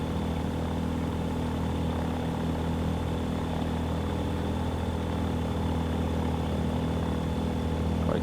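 Sting S4 ultralight aircraft in a flight simulator, heard from outside: a steady, loud engine drone with propeller buzz and a strong low hum, unbroken throughout with no talk.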